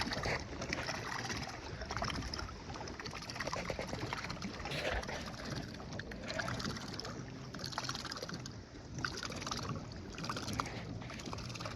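Electric trolling motor running on a kayak, with the kayak circling while tethered to it; a steady, close churn of water and motor noise continues without a break.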